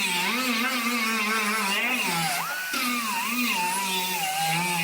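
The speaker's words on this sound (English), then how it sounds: "you grind the edge of it where it's folded across" High whining grinder cutting along the folded edge of an aluminum door skin, pitch wavering as the blade bites and eases, with one brief dip midway; loud and close, no talking.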